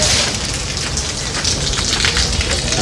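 Heavy rain pours down in a dense, loud, continuous roar of drops hitting surfaces. It sounds close and even throughout, with no voices.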